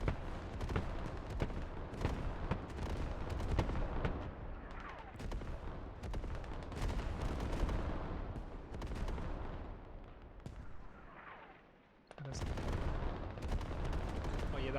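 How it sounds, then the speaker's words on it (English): Artillery fire in a competitive online video game match, with continuous booming and crackling blasts piling up one over another, loud and sustained, broken by a short drop-out before the barrage resumes. "Artillery is now getting in."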